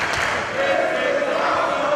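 A pro wrestling crowd at a Jeff Cobb bout sends up a sustained, dense roar of cheering that fills the arena, loud and unbroken for a couple of seconds.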